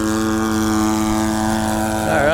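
A Legend Hobby Seagull Shock Cub RC plane makes a half-throttle pass, its electric motor and propeller giving a steady, harmonic-rich whine that bends in pitch at the end as it flies by.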